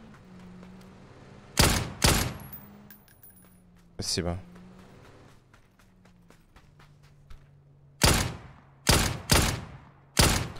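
Dragunov SVD rifle fire in a shooter game: two close loud shots, a single shot midway, then three more in quick succession, with light metallic clinks between them and a brief spoken word.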